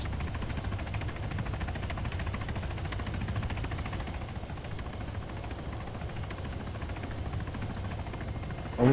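Helicopter in the Arma III military video game, a constant rotor and engine roar with rapid blade chop, steady and close throughout.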